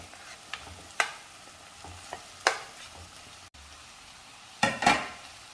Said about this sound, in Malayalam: അതിലേക്ക് നമ്മൾ വഴറ്റി വെച്ചിരിക്കുന്ന കപ്പളങ്ങ ചേർക്കാം.